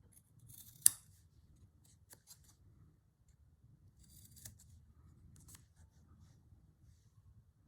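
Scissors snip through backed fabric in a slow-stitch textile project, with one sharp close cut near the start and a few lighter snips later, faint and quiet with no talk.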